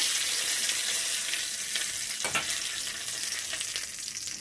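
Mustard seeds and a bay leaf fry in hot oil in a karai, a loud, steady close-up sizzle with faint crackles that eases slightly toward the end.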